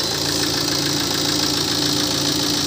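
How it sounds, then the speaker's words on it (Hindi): A Tata Hexa's engine idles after starting, following repair of a wiring short circuit; a loud, steady mechanical drone and close, even hum fill the short stretch with no break or talk. "इंजन दिखाता हूँ आपको ऑन करके"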